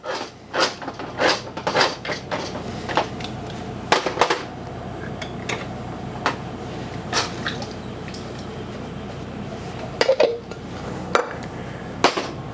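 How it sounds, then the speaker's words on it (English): Margaret Holmes canned tomatoes, okra and corn poured into a pot on a stovetop burner, with clinks of can and metal, wet splats and drips scattered irregularly, close and clear. "Just going to put my tomatoes in here."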